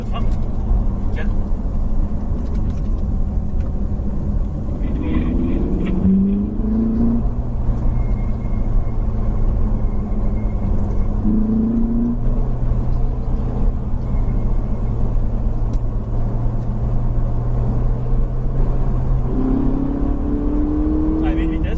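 A Ferrari engine accelerating on a driving stage, a steady close rumble that swells in several rising revs as gears change, with a voice talking over it throughout.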